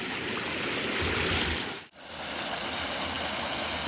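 Water rushing steadily through a gold sluice box set on slippery bedrock at a stream, a loud continuous wash that briefly cuts out near the two-second mark before resuming.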